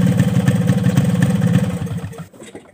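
Two-stroke motorcycle engine idling while still cold, a loud, close, rapid chugging putter with a clattery edge that runs steadily, then cuts off abruptly near the end.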